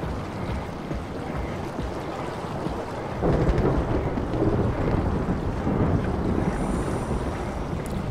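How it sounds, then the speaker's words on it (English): Rumbling thunder heard from underwater in the video game Soma, a continuous low roar that swells louder partway through and stays steady, with no voices. "It makes no sense that we can hear thunder through the water."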